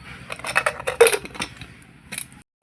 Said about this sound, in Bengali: প্রেশার কুকারের ঢাকাটা আটকে দেবো।